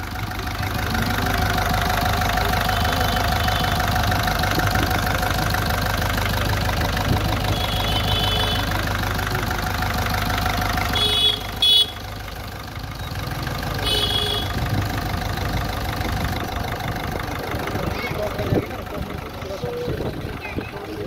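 An overhauled car engine idles steadily at a mechanic training garage, a continuous mid-to-low rumble with a faint knocking texture throughout, while people talk nearby over it.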